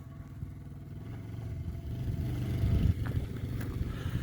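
A barn-find Kawasaki KZ550 LTD motorcycle clunks as it is worked into gear, with a low engine rumble or drone running steadily beneath a few faint mechanical clicks.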